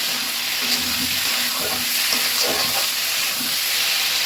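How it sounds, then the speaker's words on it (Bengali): Spices being sautéed in a little oil for a rohu fish curry with potatoes, a steady close sizzle with soft scraping stirs scattered through, no voices. "মশলাটা খুব সুন্দরভাবে কষিয়ে নেব, একটা ভাজা ফ্লেভার আসবে"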